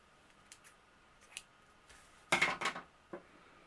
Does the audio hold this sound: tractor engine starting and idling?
no